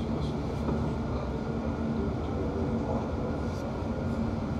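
Inside a London Overground train running on the Goblin line toward Gospel Oak, a steady, close rolling rumble holds at an even level with no voices.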